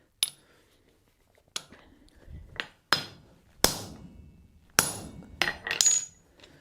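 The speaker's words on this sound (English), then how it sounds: "we want to go ahead and get this rivet good and set down first" A hammer strikes a rivet on forged copper tongs in a cold shop: about seven sharp metallic blows with ringing decay, spaced irregularly, the later ones quicker and louder.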